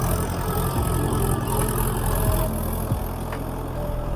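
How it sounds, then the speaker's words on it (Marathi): A household farm tractor runs steadily on a ploughed field, its engine chugging low and continuous at close range, with no one talking. "हा आमच्या घरचा ट्रॅक्टर आहे"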